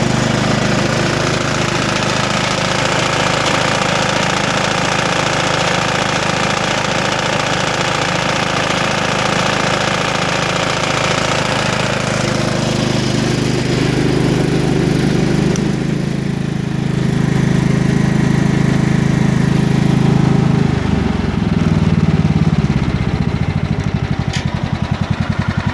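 A John Deere GT225 lawn tractor driving a 42-inch snowblower attachment runs loud and steady, its engine drone shifting to a deeper, heavier tone about two-thirds through.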